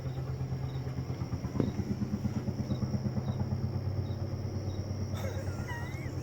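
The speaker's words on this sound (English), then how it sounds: "loudest train in the world comes by." A loud train rolls past near an outdoor backyard barbecue, a continuous heavy rumble with a fast, regular pulsing beat and occasional higher squeals, with no talking.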